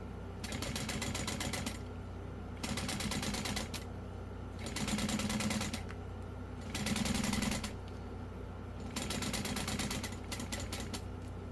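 A sewing machine stitches a zipper into a wristlet in steady bursts of rapid mechanical whirring, five runs separated by short pauses, close and continuous over a low hum.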